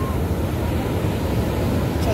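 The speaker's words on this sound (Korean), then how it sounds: "와 파도 장난 아니야." Ocean waves surge steadily onto a beach in Bali, a continuous loud rush of surf mixed with wind buffeting the microphone, with no distinct breaks across the stretch.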